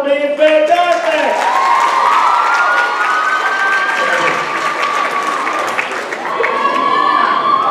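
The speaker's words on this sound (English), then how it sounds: "Let's just all clap for being fantastic!" Applause and cheering from a crowd at a school talent show, loud and sustained, with children shouting and whooping over the clapping.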